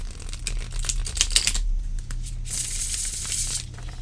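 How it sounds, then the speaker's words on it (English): A deck of tarot cards with bendy, flexible cardstock is shuffled by hand, giving a close run of crisp riffling and papery flutters with a short pause midway. "And now for a shuffle, which I expect to be just wonderful."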